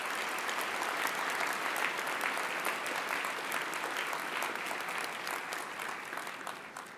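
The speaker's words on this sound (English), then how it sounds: "Let's give our faculty and staff a round of applause" A large convocation audience claps for faculty and staff, a dense sustained round of applause in a big hall that slowly tapers toward the end.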